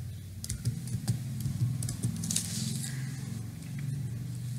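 Typing on a computer keyboard during a web-design lesson: a steady run of quick, irregular key clicks over a low background hum, close and moderately loud.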